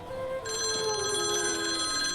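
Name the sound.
public phone booth telephone ringing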